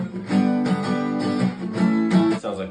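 A short song passage moves through a I–♭III–IV–V progression of plain triads without sevenths, each chord sustained clearly and changing every half second or so, loud and close with no talking.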